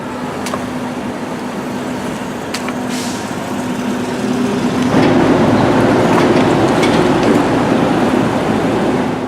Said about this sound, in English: here are a few sports car cringeworthy entrances the Aston goes over without a problem